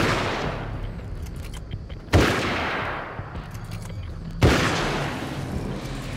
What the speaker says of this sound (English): take 4 shots from the hunting rifle